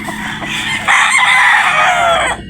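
A Sweater Boston bloodline gamecock rooster crows once, loud and near, a single drawn-out call rising after a short cluck-like lead-in.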